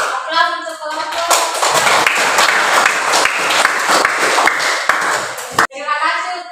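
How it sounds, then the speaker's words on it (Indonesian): Classroom applause for a student group, a loud dense burst of clapping from many hands lasting several seconds, bracketed by a teacher's voice before and after. "Aplaus untuk kelompok."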